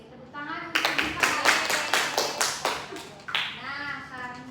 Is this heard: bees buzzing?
no